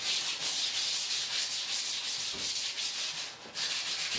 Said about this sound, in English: use 320 grit sandpaper just to sand everything smooth